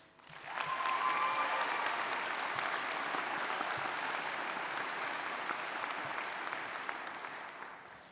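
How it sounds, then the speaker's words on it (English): Graduates at a law school graduation ceremony applauding themselves, a broad steady wash of crowd clapping that swells quickly, holds for several seconds and slowly tapers off. "So give yourselves a round of applause."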